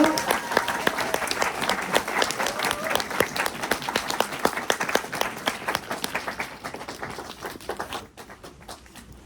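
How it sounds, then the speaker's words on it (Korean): Audience applause in a lecture hall, a dense crowd of clapping hands that swells steadily and then thins out and fades toward the end. "박수 부탁드리겠습니다."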